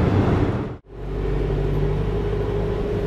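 A VW Amarok cruises at 130 km/h on a 0-degree day, filling the cab with a steady, loud road-and-engine drone that briefly drops out near the start, then holds constant.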